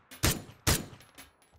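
Two loud, sharp gunshots ring out in the PUBG video game, about half a second apart, each followed by a short echoing tail.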